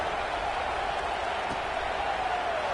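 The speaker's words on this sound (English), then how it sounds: "this crowd is buzzing after that last score" Football stadium crowd at a college game after a score and successful point after: a constant, loud, even wash of crowd noise with no distinct peaks, sustained for the whole stretch.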